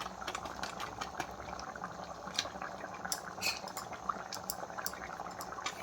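Jackfruit and egg curry bubbles in a pan while a utensil scrapes and clinks against the metal in an irregular rhythm, fairly quiet and close.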